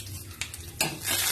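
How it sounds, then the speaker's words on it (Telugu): Mustard seeds, fenugreek, cumin and a chilli frying in hot oil for tempering, sizzling close up with sharp crackles and metallic stirring clinks against the pan, the sizzle swelling toward the end. "ఇప్పుడు ఈ ఆవాలు, మెంతులు, జీలకర్ర, ఒక మిరపకాయ పోపు ఇందులో వేస్తున్నాను"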